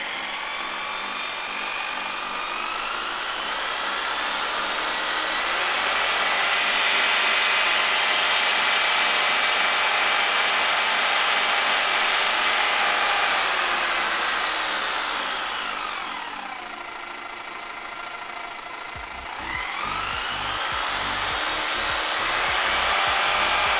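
A Bosch power tool motor rated 800 to 3200 rpm runs at variable speed, a loud whining drone that rises, holds high, dips as it slows, then spins back up near the end.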